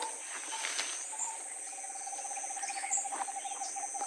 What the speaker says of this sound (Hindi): ये कौन सी चिड़िया है भाई? ये क्या है?